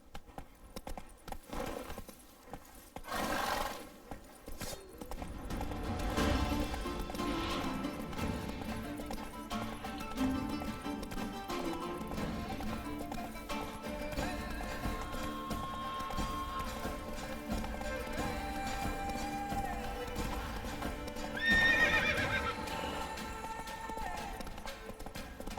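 Roach the horse gallops in The Witcher 3: Blood and Wine, hooves building into a steady rhythmic run after a few brief scattered sounds, continuing under a bed of game ambience and music.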